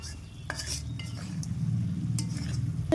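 Fried vegetables and fish are stirred into spice masala in a pan, giving a low sizzling rumble with a few scraping and clinking spatula strokes up close.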